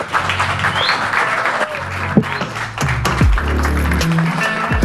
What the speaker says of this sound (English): Please start clapping and welcome Kunal Kamra.